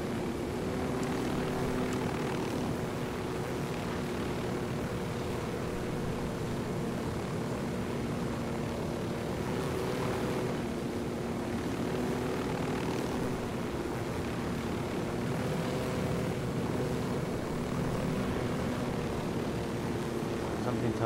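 A helicopter flies in the Ghost Recon Wildlands video game, its rotor and engine droning as a steady, continuous roar that stays loud throughout, with game ambience blending in.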